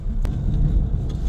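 A car being driven, a steady close engine and road rumble heard from inside, low and even throughout with no talk.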